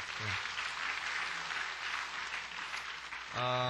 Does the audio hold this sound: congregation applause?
yes